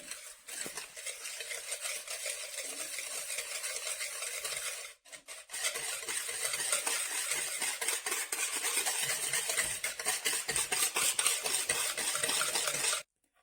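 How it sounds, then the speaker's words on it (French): Yogurt cake batter being vigorously mixed in a bowl, a steady scraping, whisking rattle that runs continuously with one brief pause, close and fairly loud, with no talking. "Donc ensuite vous le versez dans le saladier et vous mélangez énergiquement"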